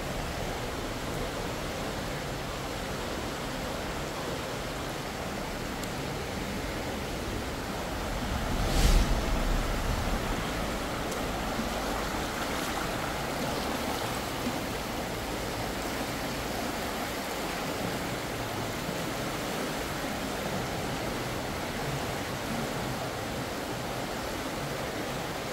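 Stream water pouring downhill in the forest on a trap-checking trip, a steady broadband rush that stays close and even throughout, with one brief louder splash partway through and no voices.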